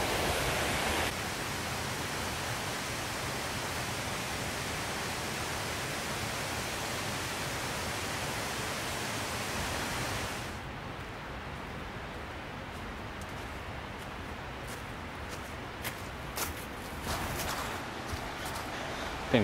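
Steady broadband rush of river rapids far below a steep drop in a state park, loud and continuous for about ten seconds, then easing to a softer wash with faint scattered noises.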